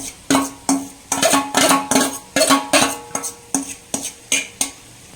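A spatula knocks and scrapes sharply against a metal pan while a masala omelette is cut in two, a dozen close, clattering strikes in uneven rhythm with no talking.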